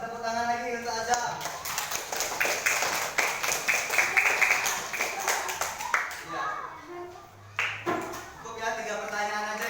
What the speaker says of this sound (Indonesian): Kasih tepuk tangan lagi untuk Azam.